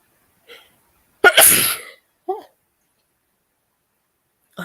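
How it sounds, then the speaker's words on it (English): A single loud, close sneeze bursts out after a short intake of breath, followed by a couple of faint small vocal sounds in an otherwise quiet room. "I'm going to sneeze."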